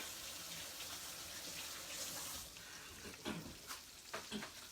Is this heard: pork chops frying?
yes